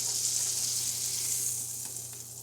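Ahi tuna searing in a hot pan, producing a steady hissing sizzle close by that softens slightly toward the end, with no talking.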